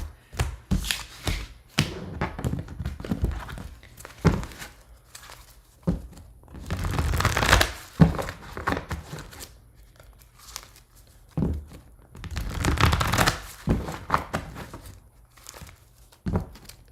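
Tarot cards being shuffled by hand during a reading, crisp bursts of riffling and papery crinkling in uneven clusters, with quiet gaps between rounds.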